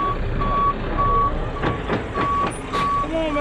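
A truck backs up on a road-building site, its reversal beeper sounding in a regular run of loud, evenly spaced beeps over a rumbling engine, with air hissing briefly near the end.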